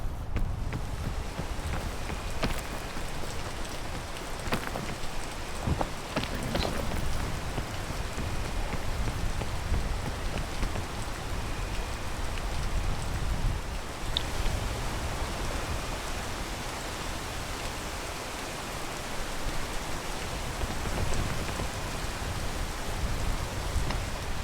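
Steady heavy rain in the video game PEAK hisses continuously with scattered drops pattering on surfaces, unbroken throughout and with no voices.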